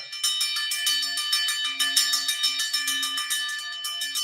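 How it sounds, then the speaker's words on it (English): A bell rings repeatedly in a steady, even rhythm, bright and clear, with a faint low hum beneath. "So ring the bell."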